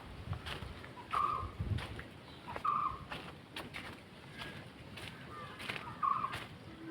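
Chickens kept on a rooftop terrace in Mayyanad, Kollam give three short, clear calls spaced a few seconds apart. The calls stand out over a soft, steady outdoor background.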